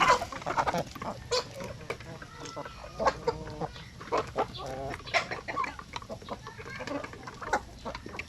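Young chicks cheep in a rapid, irregular chorus of short high peeps, some louder and closer than others, over a low background hum.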